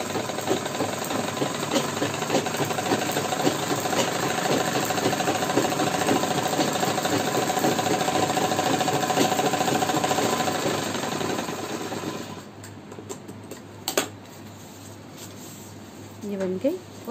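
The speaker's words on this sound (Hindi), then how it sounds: "फिर हम यहाँ से फिर एक सिलाई और लगाएंगे।" A sewing machine stitching fabric for a mohri design, a loud steady mechanical whir running near and continuous for about twelve seconds before stopping, followed by quieter handling sounds and a brief click.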